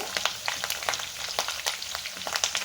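Curry leaves crackle and spit in hot oil in a kitchen pan, a close run of sharp pops over a constant sizzle, with no talking.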